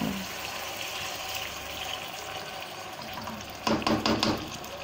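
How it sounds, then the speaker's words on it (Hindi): A glass of water is poured into a pot of beef degi qorma, giving a steady rushing wash that ends in a brief, louder splashing burst. "अभी पहले इसमें 1 गिलास पानी शामिल करते हैं।"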